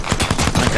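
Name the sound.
gunshots in video game Apex Legends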